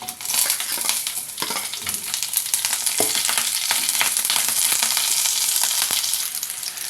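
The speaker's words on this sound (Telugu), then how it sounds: "ఇప్పుడు కరివేపాకు పచ్చిమిర్చి ముక్కలు వేసుకుందాం" Curry leaves and green chilli pieces sizzle in hot oil with mustard seeds and cumin. The frying hiss is loud and steady, with crackles and pops scattered throughout and no talk over it.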